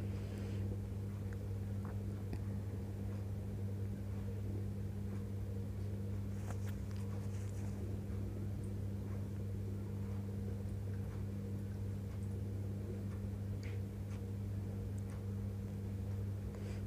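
An electric sewing machine stitches the seams of a ladies' palazzo pant, giving a steady, even motor hum that runs without a break from start to finish and has no talk over it.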